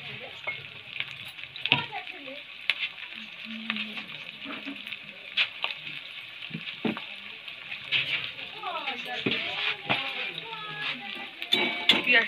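Capsicum and lightly browned onions fry in a pan, a steady sizzle running throughout with intermittent clinks and stirring scrapes of a utensil against the metal, close and moderately loud.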